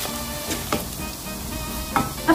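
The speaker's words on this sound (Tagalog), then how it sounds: "ngayon itong ating sibuyas na puti at yung ating pong lara ay piprituhin din po natin saglit" White onion and pepper frying briefly in hot oil in a home kitchen, a close steady sizzle with a few clinks and stirring scrapes of a utensil in the pan, no voices.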